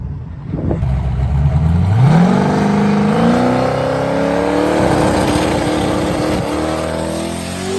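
Turbocharged C5 Corvette Z06 with a TH400 transmission making a quarter-mile drag strip pass, the engine loud and close as it revs up steadily through a long climbing pull, with no talk.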